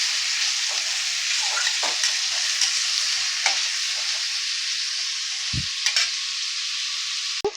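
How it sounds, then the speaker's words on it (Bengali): Chopped onions, three medium ones, frying in oil in a pan for a Bengali chicken curry (chicken kosha), giving a steady close sizzle with occasional stirring scrapes and clinks throughout, no talking. "পেঁয়াজটা একটু ভাজা হয়ে গেলে"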